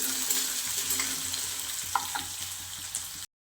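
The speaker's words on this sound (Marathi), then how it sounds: "आपण बारीक कट केलेला कांदा घालून घेणार आहोत" Finely chopped onion frying with curry leaves in hot oil, a dense close sizzle with a few stirring clicks, ending abruptly in silence.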